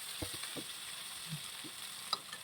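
Tomatoes and onion fry in a pan for a drumstick tomato curry, giving a soft, steady sizzle with a few scraping stirs, quiet and close.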